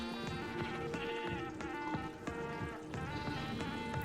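Sheep in a Minecraft hardcore world bleat again and again, several overlapping game calls, clear and fairly near, over a soft patter of rain-like ambience.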